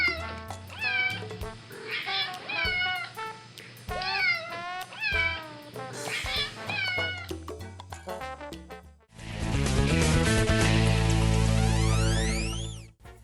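Several cats meow in a string of close, wavering cries with short gaps, then a loud sustained electronic tone takes over near the end.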